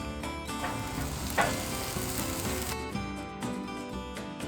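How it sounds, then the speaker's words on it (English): Korean kalbi beef ribs, marinated with kiwi, sizzle steadily on a hot grill, a dense continuous crackle and hiss up close with a few brief clanks from handling, and no talking. "heat up your grill and start grilling"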